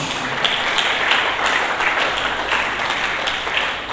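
A church congregation applauds during a sermon, dense sustained clapping from many hands filling the room evenly, loud and close.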